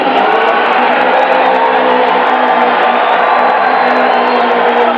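A large, very happy crowd at the 1997 Rally Australia in Forest Place, roaring and cheering in a dense, loud, continuous wash of sound.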